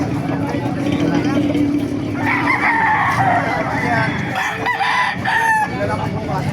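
Roosters crow repeatedly at a busy chicken market in Baliuag, Bulacan, loud and near, over constant crowd chatter and people talking.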